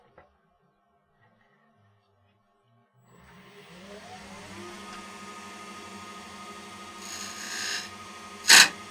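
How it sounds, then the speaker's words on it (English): A 1/2 inch spindle gouge cuts spinning wood on a lathe, starting after three seconds of near silence as a steady, moderately loud rasping scrape with a motor hum beneath, then rising to a brighter, harsher catch near the end. "So I'm using a 1/2 inch spindle gouge now."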